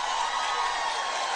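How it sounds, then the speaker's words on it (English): Studio audience cheering on the Wendy Williams show, a steady wash of crowd noise and whoops holding at even loudness throughout. "so they all cheer because they're Americans"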